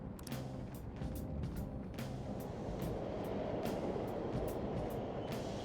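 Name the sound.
subway trains running, from video game Persona 5 Royal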